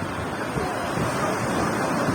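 Sea waves wash up a crowded, windy beach at Cox's Bazar, a dense, steady roar of surf with heavy wind buffeting the microphone and no clear breaks between waves.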